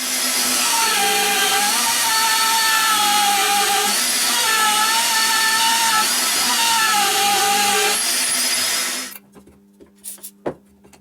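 Power drilling of M6 holes for lock screws on a machined steady rest part, a loud steady whine that rises and dips in pitch for about nine seconds, then stops abruptly, leaving a few faint clicks.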